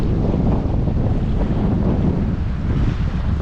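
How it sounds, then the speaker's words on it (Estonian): Strong wind gusts roar steadily across a fishing boat at sea in the Kattegat off Denmark, a dense, continuous rumble of wind buffeting the microphone with no voices. "Tuulehiilid tulevad."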